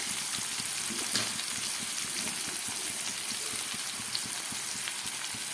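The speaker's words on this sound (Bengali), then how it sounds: "আমি কচুরলতিটাকে খুব ভালো করে ভাজা করে নেব।" Boiled taro stolons (kochur loti) frying in a pan, giving a steady, close hiss of sizzling oil with faint scrapes and taps as a fork stirs them; no voices.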